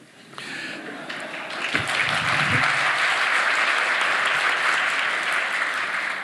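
A lecture-hall audience breaks into applause at a talk, sustained dense clapping swelling after a quiet start and holding loud and steady to the end.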